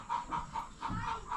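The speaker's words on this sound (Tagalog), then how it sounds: "Ang itlog kasi yung manok kaya maingay." A hen clucks noisily after laying an egg at a rural home in the Agusan Marsh, a steady run of rhythmic, repeated clucks heard up close with no talk over them.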